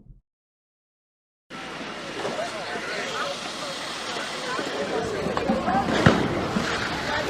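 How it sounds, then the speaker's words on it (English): Broadband outdoor crackle and rumble starts abruptly after a short silence, with a sharper pop near the end, like fireworks going off at a distance. "That's fireworks being lit down there."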